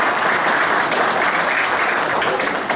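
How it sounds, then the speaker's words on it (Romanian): An audience at a county pigeon exhibition in Brazi, Prahova, Romania, applauds a newly elected club president: dense, steady, loud clapping from many hands, filling the clip without a break. "Vă rog să-l aplaudați"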